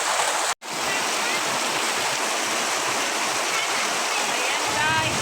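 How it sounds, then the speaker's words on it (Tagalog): Heavy rain pouring in a rural province, a loud, dense and unbroken roar of water close by, interrupted only by a split-second dropout near the start. "ang lakas ng ulan."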